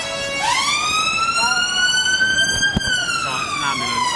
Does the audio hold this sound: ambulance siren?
yes